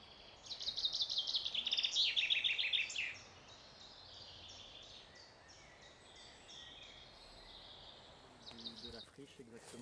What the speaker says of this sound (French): Il y a beaucoup d'oiseaux ici, énormément d'oiseaux.